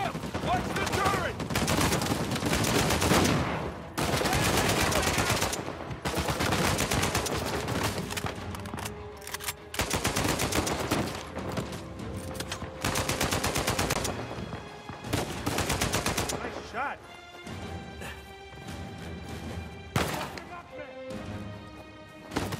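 Heavy turret gunfire in Uncharted 4 pounds in long, dense automatic bursts with crashes and impacts, loud and nearly continuous, broken by short gaps with game voices underneath.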